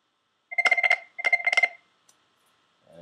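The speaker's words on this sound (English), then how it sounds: "You hear in the background ringing the IP communicator." Cisco IP Communicator softphone ringing for an incoming call: two clear electronic warbling ring bursts, each a rapid double pulse, then silence with a faint voice starting at the end.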